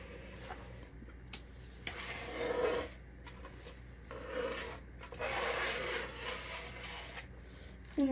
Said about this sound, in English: And then we take trusty scraper.